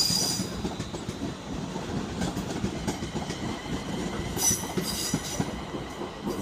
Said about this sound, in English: Now leaving 350-106 from the Euston, which is for your 1605, two Tango 81, the London service to Tring.